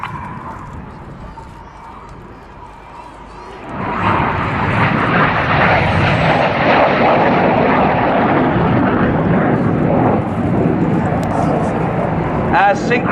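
Red Arrows jet aircraft performing a formation display at an air show, a loud sustained roar of jet engines swelling after a quieter start, with a public-address commentator talking over it throughout.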